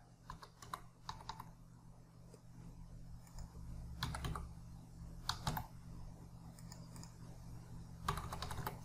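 Keys tapped on a computer keyboard in scattered clusters of quick clicks with short pauses between, quiet and close against a faint steady hum.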